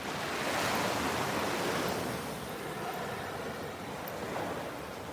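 Ocean surf at Miami Beach, clear blue water, washes in continuously, a broad hissing wash that swells and recedes, with some wind buffeting the microphone and no voices.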